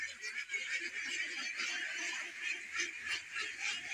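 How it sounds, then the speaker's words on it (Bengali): A flock of ducks honks and quacks as they crowd into their duck house, a steady overlapping chatter of calls at moderate distance, fairly faint, with no talking. "এবার দেখো সব হাঁসের ঘরে ওরা হাঁস ঢুকে যাচ্ছে"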